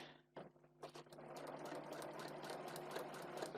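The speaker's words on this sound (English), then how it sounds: "I'm going to drop my presser foot, make sure that the line that I'm stitching on runs straight through the middle of my presser foot, and I'm going to stitch" A home sewing machine runs a continuous line of stitches through fabric for foundation paper piecing a small heart block, a faint steady mechanical whir after a few brief starting bumps.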